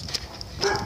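A dog gives a few short yips and barks that are brief and moderately close, over faint background noise while riding a bike.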